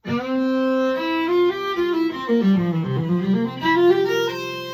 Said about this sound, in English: so my main sound has a lot of flange on it